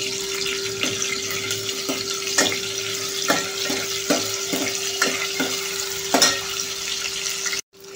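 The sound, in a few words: frying dried bombil fish until brown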